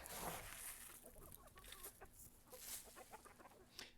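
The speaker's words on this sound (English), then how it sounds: "let me call them in and I'll show you some chickens" Chickens cluck as they gather around scattered seeds, a soft, busy chatter of overlapping clucks heard faintly from a short distance.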